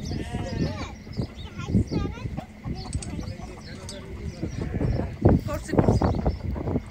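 Goats and sheep bleat repeatedly at a crowded livestock market ahead of a sacrificial festival, loud, close and overlapping with people talking nearby.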